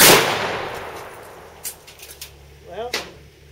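An H&R pump-action shotgun is racked outdoors after a shot, the fading tail of the report giving way to a few quick mechanical clacks and clicks, followed by a brief voice.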